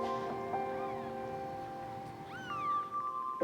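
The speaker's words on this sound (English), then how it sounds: "I'm going to look at these 5 little kittens" Small kittens at a vet clinic give a few thin, high rising meows, one short cry early and a longer wavering one later, close by over a faint steady background hum.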